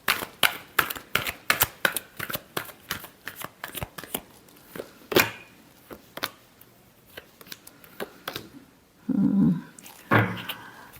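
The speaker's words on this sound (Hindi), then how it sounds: "Last shuffle." Tarot cards are shuffled during a Pisces love reading in a run of quick crisp riffling snaps, with one louder flick midway and a brief low hum near the end.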